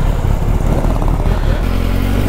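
A KTM Duke 390 motorcycle pulls away on a ride to Ponmudi, its loud, close engine rumbling steadily and shifting in tone partway through, with no clear talk.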